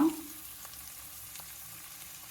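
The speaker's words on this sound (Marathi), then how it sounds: "मिरे आणि दालचिनी आणि लवंग हे टाकून घेतलंय आता हे हलवून घेऊ थोडा वेळ" Bay leaf, black pepper, cinnamon and cloves frying in a pan for spinach pulao, a soft steady sizzle with faint stirring scrapes, fairly quiet and with no voices.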